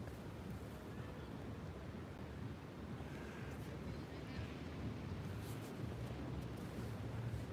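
Ocean surf and wind on a beach, a faint continuous wash of broadband noise with low rumbling gusts and no distinct individual wave crashes.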